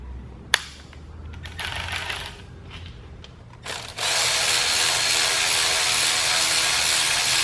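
An electric ratchet with a 1/4-inch drive and 10mm socket spins off factory hose clamps on an Acura NSX, a few short clicking bursts followed by a loud, steady buzzing whir close by.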